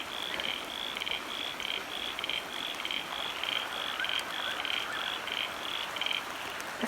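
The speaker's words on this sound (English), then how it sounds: "Frogs are still at it." A chorus of pond frogs croaks in rapid repeating pulses, a constant, fairly close trilling din that never lets up, with no talking over it.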